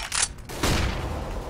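A flashbang grenade thrown in a video game goes off with a loud, sharp burst, trailed by a broad rushing wash of noise that lingers for about a second.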